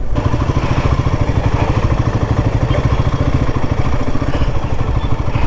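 A motorcycle engine chugs steadily and loudly up close as the bike rides slowly through a road crossing, with a rapid, even pulse throughout.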